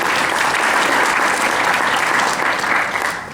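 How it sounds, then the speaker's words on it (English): An audience breaks into sustained applause, a dense, steady wash of clapping that holds at full strength for about three seconds before starting to thin out at the end. "Let's give Jennifer a round of applause."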